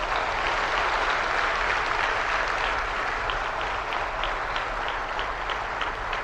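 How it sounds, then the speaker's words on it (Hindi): Steady, loud applause from a large audience at a skills convocation award ceremony in Delhi, honouring disabled award recipients, continuous clapping filling the hall without pause or voices. "दिव्यांग के हमारे जितने अवॉर्डीज हैं उनके लिए जोरदार तालियां"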